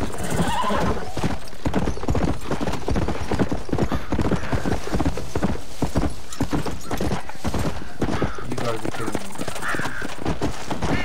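Rapid hoofbeats of a galloping horse in the video game Red Dead Redemption, loud and continuous, with whinnying and a voice speaking over it.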